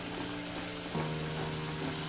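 Steady sizzling of masala and peanuts frying in a pan for eggplant curry, with soft stirring scrapes and a low hum underneath.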